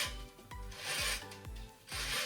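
Textured string rasps loudly as it is pulled in quick repeated strokes while stringing a tennis racket, a scratchy rubbing sound with a brief pause between pulls.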